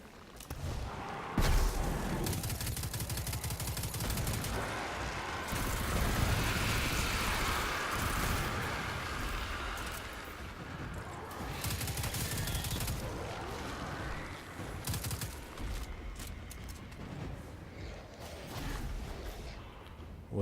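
Dense gunfire from enemy knights in the video game Destiny 2, with several rounds fired in quick succession. It comes as a loud, continuous barrage of shots layered with game noise, and no one speaks over it.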